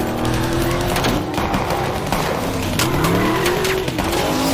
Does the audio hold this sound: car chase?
yes